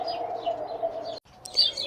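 A small bird chirps in a steady, close run of high calls with a brief break, then brighter chirps resume.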